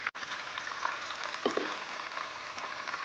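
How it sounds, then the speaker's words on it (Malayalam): Chicken frying in hot oil over a high flame, a steady dense sizzle and crackle running throughout with a few brief bubbling pops, close and moderately loud, no talking. "അപ്പോൾ ഒന്ന് ഹൈ ഫ്ലെയിമിൽ വെക്കുക ആൻഡ് ഒരു സ്ട്രെയിനറിലോട്ട് എടുക്കുക."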